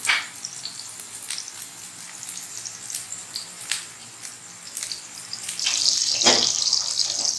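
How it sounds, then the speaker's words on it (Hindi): Kebabs for Irani kabab frying in a pan over a medium flame, giving a steady soft sizzle with scattered small crackles and pops, rising to a louder, denser hiss near the end, with no talking. "मीडियम फ्लेम पर हमने इनको फ्राई करना है"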